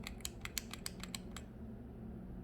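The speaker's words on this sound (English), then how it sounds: "I'm gonna go ahead and try to put it at 5 by clicking 5 times." Silhouette Cameo 4 autoblade being clicked through its depth settings, about nine quick, sharp plastic clicks in a fast uneven run, then quiet.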